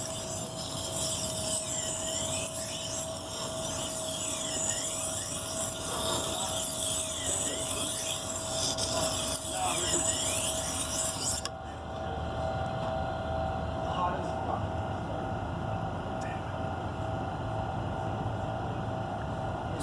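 A Tormek T2 sharpener grinds a severely damaged Dexter knife to raise a burr, a loud continuous abrasive rasp and whirring hum close by, with a brief dip partway through before the grinding carries on.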